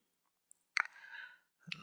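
A computer mouse clicks sharply a few times close up in a quiet room, a soft tick followed by a crisp double click and another near the end.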